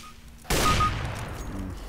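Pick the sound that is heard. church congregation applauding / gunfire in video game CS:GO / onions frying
gunfire in video game CS:GO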